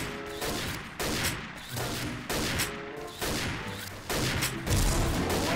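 Repeated heavy gunfire from an APC-800 sniper rifle in the shooter game XSHOT, a string of loud, close shots in a steady rhythm with a few sharper blasts near the end.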